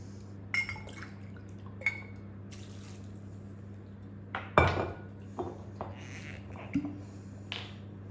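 A mixture made with olive oil being stirred in a home kitchen, sparse light clinks and taps of a utensil against a bowl or glass, scattered over several seconds against a faint steady hum.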